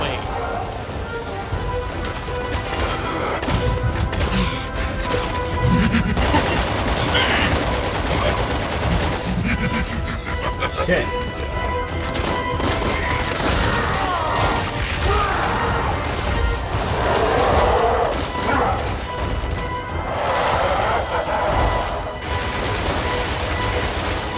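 Rapid gunfire, including sniper shots, in Resident Evil 6 as a player shoots an enemy during the Ada campaign finale, dense and continuous alongside crashes, game music and effects, with someone talking throughout.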